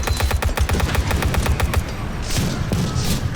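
Rapid automatic gunfire in the WWII video game Total Tank Simulator: a loud rattling burst of evenly spaced shots, then scattered booms and rumbling battle noise.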